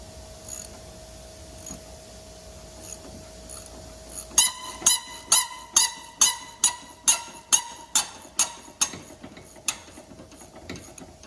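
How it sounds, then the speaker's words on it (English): A ratchet wrench clicks steadily as it works loose a sway bar end link on a Mustang GT, about a dozen sharp, close, evenly spaced clicks after a quiet start. "got a ratchet wrench on the back and an open end on the front."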